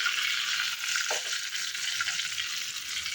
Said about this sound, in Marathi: त्याला व्यवस्थित ते फ्राय झालं, तडका बसला